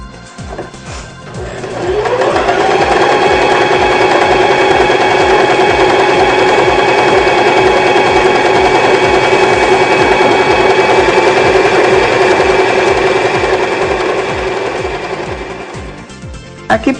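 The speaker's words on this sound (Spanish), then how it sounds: "Aquí podemos ver el grupo de puntadas decorativas del grupo rojo que maneja nuestra máquina de coser Janome modelo 2012." A Janome 2012 sewing machine stitching decorative stitches starts up after a couple of seconds and runs in a fast, steady, loud mechanical whir with rapid needle chatter for about twelve seconds, then slows and stops.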